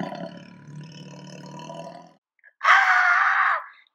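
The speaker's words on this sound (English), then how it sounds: "she doesn't notice the black panther coming roaring towards her" A black panther in a Lego stop-motion movie gives a low, rumbling growl, then falls briefly silent before letting out a loud, harsh roar that lasts about a second, close and alone.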